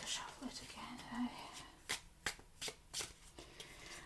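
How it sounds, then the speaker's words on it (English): A deck of tarot cards is shuffled by hand in a quiet room, with soft riffling then a run of sharp, evenly spaced card slaps and flicks close by, with faint whispered talk early on. "I need to shuffle it again."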